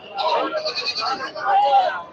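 Black Bengal goats bleating at a busy goat market, wavering cries rising and falling over about two seconds amid the crowd's steady chatter.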